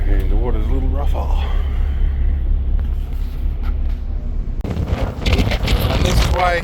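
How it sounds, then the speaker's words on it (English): Gusty wind buffets the microphone with a constant low rumble on a ferry deck crossing a strait in New Zealand, while a person talks over it and the ferry's engine hums underneath. "this is why they say it's windy, because it is."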